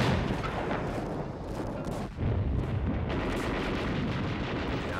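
Heavy artillery and gunfire in a World War II island battle, dense continuous booms and crackling shots rolling on without pause, loud and close, with no voices.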